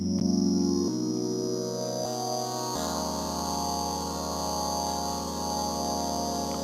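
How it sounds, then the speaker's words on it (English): A synth tone processed with Ableton's stock Erosion plugin sounds as sustained buzzy, gritty notes that step through a few pitch changes, with a steady grainy distortion held throughout. "I'm gonna go with the Erosion plugin, which is a stock Ableton plugin"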